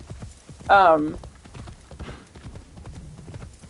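A horse's hooves clip-clop in the video game Assassin's Creed Shadows as it carries the rider, a close rhythmic patter with a man's brief exclamation over it.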